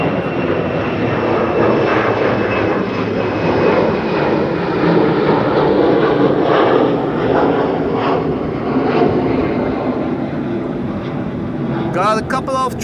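A large airliner lands on the Kaagbaan runway at Schiphol airport with a loud, sustained engine roar and a slowly shifting whine that holds steady throughout, while a voice briefly comments near the end.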